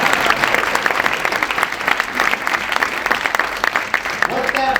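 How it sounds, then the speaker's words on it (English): Audience applause at a health and wellness center ribbon cutting ceremony, a dense steady round of clapping from a crowd lasting throughout, with voices mixed in. "And we should clap about that."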